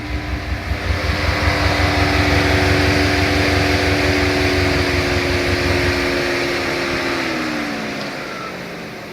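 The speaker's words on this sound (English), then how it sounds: "your fan just turned on super mega turbo high" A 2017 Camaro 2.0 turbo four-cylinder with a bad misfire and a dead cylinder idles while its cooling fan roars on high, a loud, steady whoosh over a lumpy, pulsing engine beat that fades out after about six seconds.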